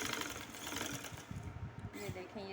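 A sewing machine runs a long, loose stitch along skirt fabric to gather frills, a steady mechanical whirr lasting a few seconds with someone talking over it.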